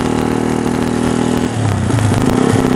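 Close, loud engine of a custom Yamaha Scorpio bobber motorcycle on a night ride, throbbing steadily then revving up and down in short surges, with no voices.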